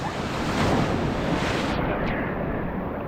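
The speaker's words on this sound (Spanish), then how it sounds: "aquí ya no me rompe la ola" Ocean surf at a Cancun beach on the Caribbean, with continuous loud wash of waves and wind noise close to the microphone, as if recorded while standing in the water.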